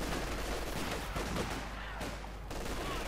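Gunfire and light machine guns from the video game Company of Heroes 2, a dense continuous wash of battle noise with scattered shots and bursts at steady loudness, no clear single reports standing out.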